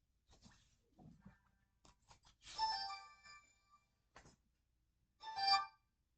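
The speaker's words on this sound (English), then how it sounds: "My phone is ringing." A phone rings in two short bursts of bright electronic tones a few seconds apart, fairly faint and separated by quiet gaps with light scattered clicks.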